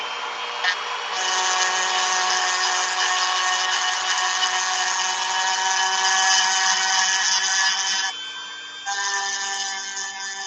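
A Dremel rotary tool works on an action figure during customizing, giving a steady, loud high-pitched whine that runs nearly continuously with a brief dip near the end before resuming.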